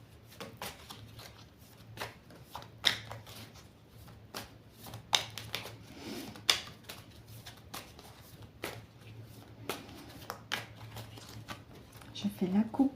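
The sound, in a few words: tarot cards being shuffled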